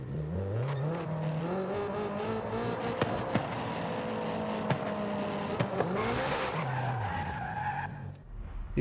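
A Honda Integra Type R races and drifts in Forza Horizon 5, its engine note rising and falling through gear changes while tires squeal in long skids, loud and close throughout before cutting off near the end.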